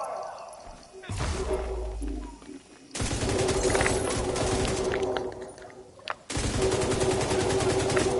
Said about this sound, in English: So I'll provide cover fire.